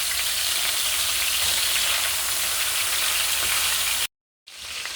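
A burger patty sizzles steadily in a hot pan just after being flipped, a loud continuous frying hiss that cuts out abruptly near the end before resuming.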